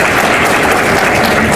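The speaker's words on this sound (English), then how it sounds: "Please give her a round of applause." A crowd applauds at a county State of the County address, a brief, loud, continuous wash of many hands clapping that fills the whole moment without pause.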